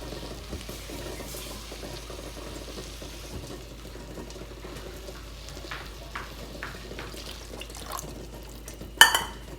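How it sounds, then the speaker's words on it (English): A spoon stirs tomato sauce and water in a pot for meatless pasta. The soft, close scraping and sloshing runs quietly throughout, with a few light clinks and one sharper clank near the end. "I'm just gonna mix it up"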